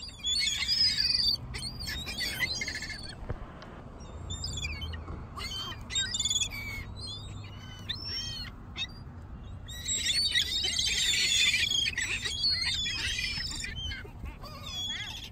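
Hungry seagulls being fed bread call out in repeated squawks and cries, with bursts of overlapping calls and quieter gaps, fairly close, over a steady low outdoor rumble.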